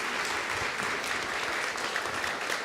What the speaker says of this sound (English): Let's please give a round of applause to our incredible Borough President, Eric L. Adams.